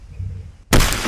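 The passenger side window glass of a camper van shatters: a sudden, loud, sustained crash of breaking glass that cuts in after a short moment of quiet low hum.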